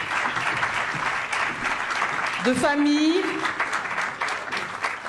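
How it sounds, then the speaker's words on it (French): An audience at a French conference claps for panelists gathering at the foot of the podium for a group photo, steady dense applause throughout while a voice speaks briefly over it. "On les applaudit pendant qu'ils se mettent au pied du podium"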